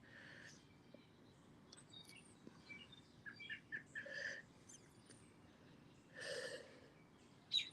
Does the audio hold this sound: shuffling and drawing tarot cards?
no